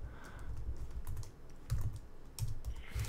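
Fast typing on a computer keyboard during a Linux server SSH session, with rapid, close, uneven clicks that come in bursts and continue steadily throughout, with no talking.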